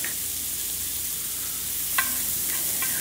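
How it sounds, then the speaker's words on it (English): Onions frying in bacon grease in a cast iron pan, a loud, close, steady sizzle with a couple of sharp scraping stirs near the end. "then you put the onions into the bacon grease and cook the onions until they're"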